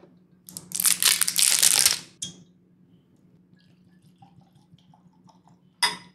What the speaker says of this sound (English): I will pour both of these neat